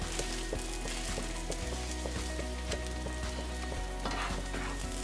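Spinach sizzling steadily in a hot pan with chili pepper flakes, a dense, constant frying crackle with light scraping as it is stirred, close and loud, with no voices.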